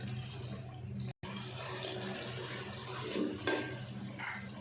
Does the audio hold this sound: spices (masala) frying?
yes